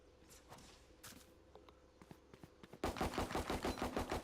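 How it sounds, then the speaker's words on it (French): Gunfire in the video game Valorant: scattered single shots and footsteps at first, then a loud, sustained burst of rapid automatic fire near the end, with no talking. "Pourquoi il me tire dessus?"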